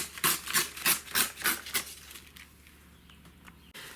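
Paper pages torn by hand from a handmade junk journal, a run of about six quick ripping strokes in a steady rhythm, close and fairly loud, then a quieter stretch of faint paper handling with no talk.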